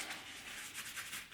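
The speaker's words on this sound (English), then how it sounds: "let's try to wipe the excess oil away" Excess oil is wiped off a D2 steel karambit knife blade with a cloth, giving a faint, quick rubbing swish that repeats in short strokes.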